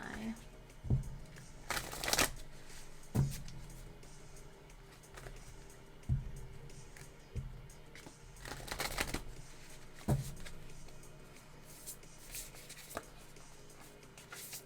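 Tarot cards shuffled in a few quick riffling bursts with soft taps between them, close up, over a steady low background tone and faint music.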